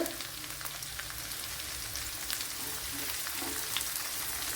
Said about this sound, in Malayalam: മൂപ്പിച്ചെടുക്കണം ഒരു കടുക് പൊട്ടിയതിന് ശേഷമാണ് ഞാൻ ഇട്ട് കൊടുത്തത്